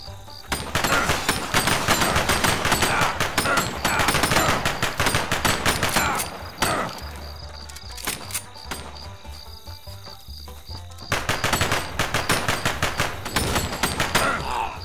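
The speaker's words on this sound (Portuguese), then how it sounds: "Estão atirando na gente?" Rapid bursts of automatic gunfire in the video game American Fugitive rattle almost continuously, pausing briefly in the middle before resuming, loud and dense.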